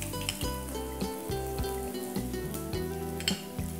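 Asafoetida tempering sizzles in hot oil in a pan as a pickle is made, a steady loud crackle with sharp pops and a few scattered clinks from a spoon or pan.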